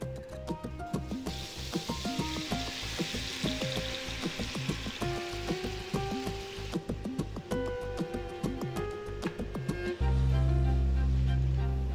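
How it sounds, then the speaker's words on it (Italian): Cherry tomatoes frying in garlic-infused olive oil in a pan in a Neapolitan Michelin-starred restaurant kitchen, giving a steady close sizzle over busy background sounds, with a loud low rumble taking over near the end. "Eliminiamo l'aglio e soffriggiamo i pomodori."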